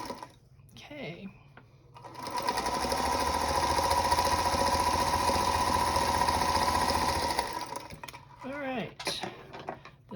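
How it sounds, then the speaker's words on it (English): A sewing machine stitches two fabric pieces of a Christmas tea wallet in a steady, loud mechanical whir that lasts several seconds, and brief speech and handling sounds come before and after it. "we're going to stitch those two and see how fast this goes together."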